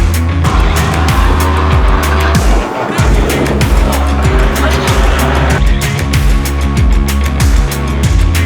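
Race cars roar around Rock Raceway, with engines droning, tyres squealing and cars passing, loud and continuous under a steady rhythmic backing.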